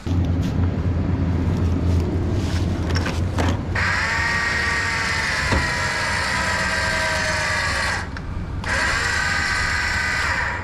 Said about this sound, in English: I think we'll give it a little tug with the winch though